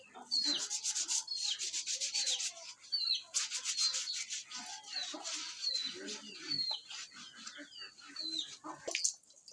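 Vigorous scrubbing of soapy skin during a cold-weather bath, a rough rhythmic rubbing that comes in repeated bursts with brief pauses, close and fairly loud, with occasional bird-like chirps in the background.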